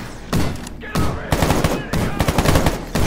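Rapid automatic weapons fire in Stalker GAMMA, several loud bursts of shots in quick rhythmic succession, with faint voices underneath.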